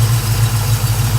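A 1969 Oldsmobile Hurst/Olds V8 idles close by, a steady, loud low rumble with an even pulsing throb and no other sounds.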